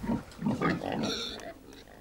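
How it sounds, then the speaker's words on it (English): A domestic household pig grunts in a few low, rough bursts close by, followed by a softer, drawn-out snuffling grunt. "The pig is the perfect recycling machine for humanity's edible debris."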